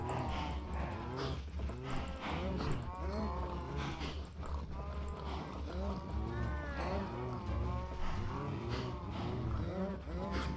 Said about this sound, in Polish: Na moich krówkach. że tu troszeczkę ich rozmnożymy.